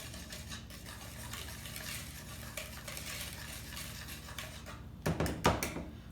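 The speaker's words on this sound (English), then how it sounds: "you're going to whisk all those together" Dry sugar, baking powder and salt whisked together in a bowl, a quiet continuous scratchy rustle of the whisk, ending in a few sharper clinks against the bowl.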